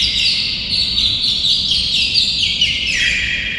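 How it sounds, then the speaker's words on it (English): Tuned bird whistles on the world's largest theatre pipe organ warble in bright, rapid trills that step downward in pitch, loud and close, over a faint low background. "those are supposed to be tuned birds"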